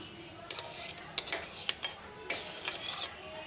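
A metal spoon clinks and scrapes against the side of a container of hot milk in a few quick bursts of stirring.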